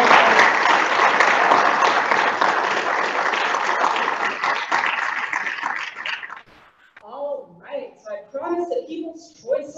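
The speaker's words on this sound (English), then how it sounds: "So big round of applause for our presenters" Sustained audience applause for presenters at a final event, dense and loud for about six seconds, then fading as a voice begins speaking over the dying claps.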